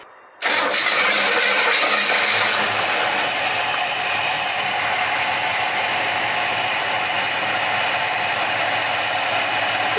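A car fitted with a Turbo400 automatic transmission cranks briefly and fires up, then settles into a loud, steady, close idle with a high whining hum running through it.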